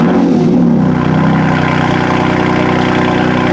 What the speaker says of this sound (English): let's give it a cold start. This is a titanium M Performance exhaust, and this is a BMW M4